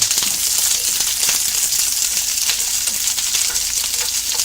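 Asparagus sizzling in butter in a hot pan makes a loud, steady hiss of frying that stays close and continuous throughout, with faint clicks of metal underneath and no voices.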